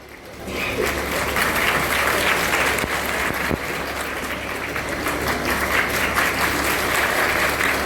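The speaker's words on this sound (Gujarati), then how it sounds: "જોરદાર તાળીઓથી વધાવીશું" A crowd at an honouring ceremony for a women's self-reliance program bursts into strong, steady applause after a quiet moment, clapping densely and evenly throughout.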